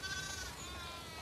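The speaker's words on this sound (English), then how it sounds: "We definitely have way too many sheep." A sheep bleats in The Last of Us Part II, one wavering, nasal cry held close and clear for about a second, with no voices over it.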